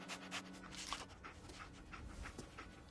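The companion dog in Fallout 4 pants softly and rapidly in steady breaths with faint whimpers, quiet and continuous with a low game ambience underneath.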